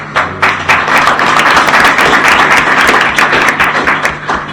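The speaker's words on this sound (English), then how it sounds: "I invite all of you to applaud" Audience applause for a speaker at the end of a lecture on NATO and the Western Balkans, loud close clapping from many hands, dense and sustained with a few distinct nearby claps.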